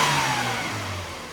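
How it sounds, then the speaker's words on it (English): A car engine on a tuning run revs hard as the throttle is snapped open, producing a loud, close, sustained roar whose pitch drifts downward over about a second. "And when we snap the throttle open"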